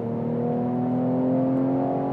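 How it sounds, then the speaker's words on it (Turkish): A Mercedes-AMG E43 on the road gives a steady, droning exhaust note with a smooth tonal hum that holds even throughout, close and fairly loud, and no one talks over it. "Başladı egzoz valla çalışmaya"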